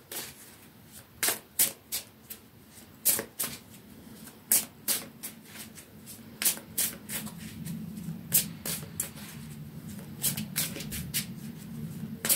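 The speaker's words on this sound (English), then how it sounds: "I'm going to pull some oracle cards first." Oracle cards being shuffled by hand in a quiet room, a steady run of crisp riffling bursts repeating for several seconds with no talk.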